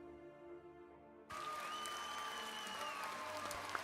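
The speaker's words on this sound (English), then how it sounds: "Let's give Pasta a round of applause" An audience breaks into applause for a homebrew review submission, a sudden burst of steady clapping that starts after a quiet tonal opening and holds fairly loud to the end, with no talk over it.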